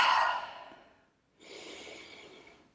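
A person seated on a yoga mat with eyes closed breathes through the nose, giving a soft, close exhale like a sigh that fades out, a short pause, then a gentler, steady breath.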